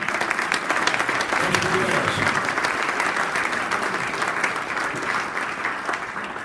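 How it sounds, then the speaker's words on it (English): An alumni chapter meeting audience of Delta State University gives a steady, dense round of applause that fills the room for the whole stretch, with a voice faintly audible beneath the clapping. "give him a hand so I can tell him that you clap for"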